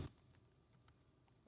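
Faint, sparse clicks of typing on a computer keyboard during a lecture, a few light taps scattered over a quiet background.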